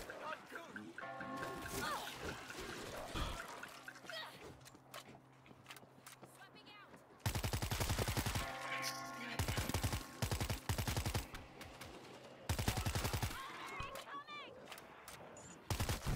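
Sniper rifle fire in the zombie shooter World War Z, loud sharp shots in several bursts over game noise and ongoing voices.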